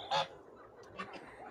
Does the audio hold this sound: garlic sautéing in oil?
no